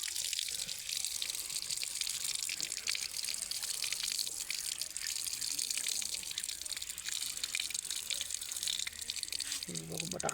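Water running while potatoes are washed: a steady, bright hiss of flowing water fills the whole clip at moderate level, with a brief low clatter at the start and end.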